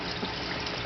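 Water flows through aquaponics plumbing from a T and valve into a grow bed as a steady, close rushing gush with no pauses.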